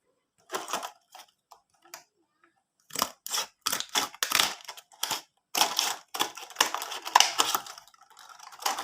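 An empty plastic mineral water bottle being snipped into small pieces: bursts of sharp crackling cuts and crinkles, near and fairly quiet, with short pauses between groups of snips.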